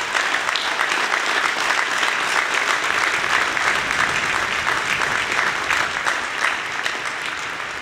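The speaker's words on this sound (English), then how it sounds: "let's give them another round of applause for their courage and grace." A large audience at a Liberty University commencement ceremony claps in sustained, dense applause, a steady loud wash of hands from start to finish that tapers only slightly at the end.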